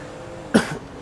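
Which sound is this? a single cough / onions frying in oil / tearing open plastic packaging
a single cough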